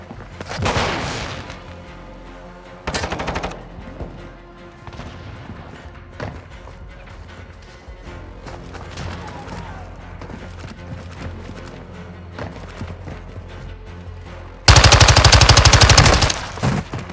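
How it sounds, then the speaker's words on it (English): Gunfire in Call of Duty Modern Warfare II: bursts of automatic weapon fire and sharp shots at the start and again around three seconds, scattered distant shooting through the middle, then a sustained loud burst of rapid fire near the end. "They're shooting at me!"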